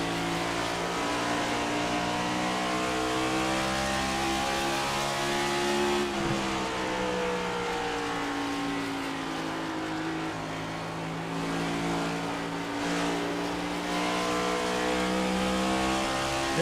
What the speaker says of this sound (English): They're chasing this car all up and down this racetrack.